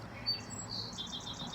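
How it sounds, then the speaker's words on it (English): Outdoors among paved paths, a bird sings faintly in the distance, giving a thin high whistle followed by a string of soft repeated chirps. A quiet low ambient hum sits underneath, and no one talks. "birdsong."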